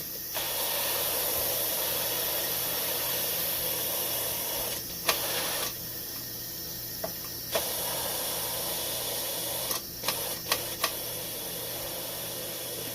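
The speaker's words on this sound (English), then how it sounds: "This is just a quicker release to release steam." An Instant Pot pressure cooker quick-releases steam in a loud, continuous close hiss that runs for several seconds, with a few brief dips and small clicks partway through.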